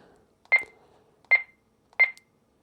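Three short, sharp keypad beeps from an Icom IC-V3500 2 meter radio as a frequency is entered, evenly spaced and close, with a faint hum between them.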